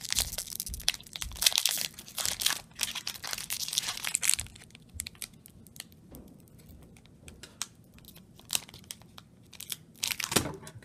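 A Magic trading card pack wrapper is crinkled, squeezed and torn by hand in bursts of loud crackling foil noise, then quieter handling and scattered rustles before another crinkling burst at the end.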